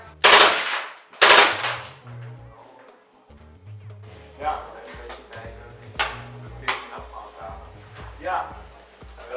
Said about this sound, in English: Let's try 3-round burst.